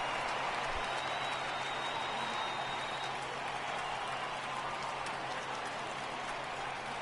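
A stadium crowd cheering in the baseball video game MLB The Show 18, a broad, steady roar of applause and voices holding at an even level for several seconds, with a faint whistle rising briefly early on.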